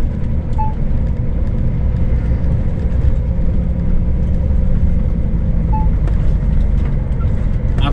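Car driving along a road: a continuous low engine rumble and road noise from inside the cabin, steady throughout, with a faint chime now and then and quiet talk underneath.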